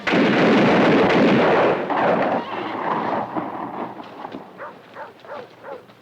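A volley of rifles fires on command, a loud booming blast that rolls and decays into scattered echoing reports and fading rumbles.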